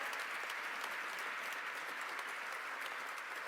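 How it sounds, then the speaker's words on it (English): Audience applause at a political event, a dense, steady crowd clapping heard from a distance at moderate loudness without a break. "a round of applause."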